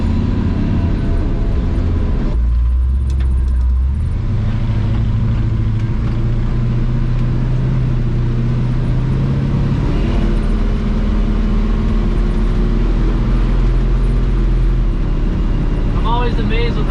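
A lowered 1958 Chevrolet Apache shop truck cruises down the road, heard from inside the cab as a steady, loud low engine drone and road rumble whose pitch shifts as it changes speed.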